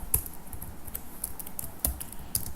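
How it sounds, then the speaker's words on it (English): Light, scattered clicks of fingers typing on a computer keyboard, a few brief keystrokes spread across a couple of seconds with no talking. "So just type"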